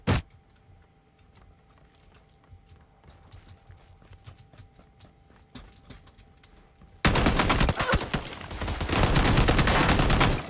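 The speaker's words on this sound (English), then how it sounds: "they were shooting me" Rapid automatic gunfire erupts loud and dense in a battle royale video game, following several seconds of scattered faint shots and quiet game ambience.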